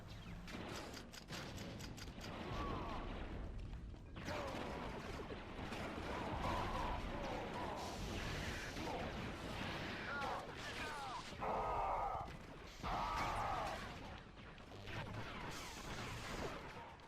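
Continuous heavy booming and crashing explosions with gunfire-like bursts from the video game Star Wars Battlefront 2 (2005) fill the scene, loud and relentless, with shouting voices mixed into the chaos.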